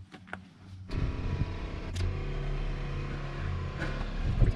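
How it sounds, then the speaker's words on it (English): Electric seat motor in a 1964 car, a single motor with a three-speed transmission, running with a steady low hum and whine for several seconds after a few faint clicks, fairly close and alone. "The seat is electric. 1 motor, 3-speed transmission."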